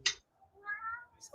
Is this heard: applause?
no